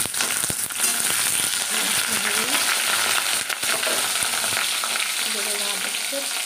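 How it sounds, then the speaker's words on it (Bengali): Potatoes fry in hot oil with a steady, close sizzle and crackle, broken by occasional stirring clatter and scrapes in the pan. "এই তেল গরম হয়ে গেছে, মাছ ভাজার আলু দিয়ে দিয়েছি"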